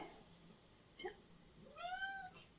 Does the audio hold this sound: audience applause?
no